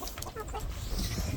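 Several chickens cluck in short, scattered bursts close by in a backyard flock, with faint noise around them and no clear talk.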